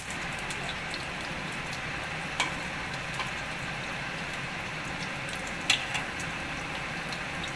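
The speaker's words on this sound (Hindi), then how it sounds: "हमारी टिक्कियाँ अच्छे से फ्राई हो गई हैं। अब इन्हें निकाल लेंगे।" Chicken and potato kababs fry in hot oil with a steady, dense crackling sizzle, broken by a few sharper pops, close and continuous with no talking.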